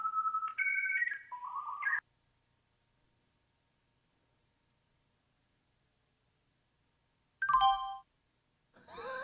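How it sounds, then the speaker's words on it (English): Windows 98 system chimes play twice: a bright stepped tonal jingle for about two seconds, then silence, then a shorter descending chime with a thump, followed by another brief burst of sound at the end. "there is actually like the Windows login sound"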